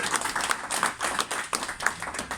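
A small audience at a Paris literary café claps in a brief burst of applause, close and fairly loud, with irregular overlapping hand claps.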